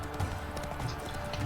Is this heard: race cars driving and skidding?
no